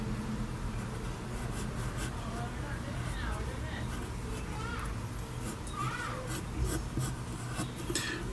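A pencil scratches short strokes on paper while drawing shoe laces, quiet rhythmic rubbing marks under children's voices and background chatter.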